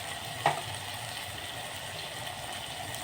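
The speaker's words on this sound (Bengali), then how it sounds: "মশলাগুলোকে একটু ভালো করে ভেজে নেব।" Spices frying with tomato in a pan, a low steady sizzle and bubbling with one brief clink of a utensil near the start, close and quiet with no talking.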